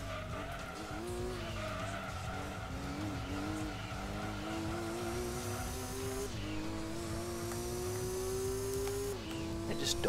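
Racing car engine in the video game Gran Turismo 2, driving a GT-R: a continuous droning engine note that rises and shifts pitch with gear changes, mixed with tire skid noise and game music, at moderate level.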